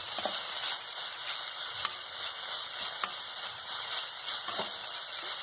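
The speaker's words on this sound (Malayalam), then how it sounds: "ഇളക്കാം." Pineapple thoran, a Kerala-style pineapple stir fry, being stirred in a pan: a steady broadband sizzle and frying hiss with a few light scraping knocks from the spoon, close and continuous, no talking.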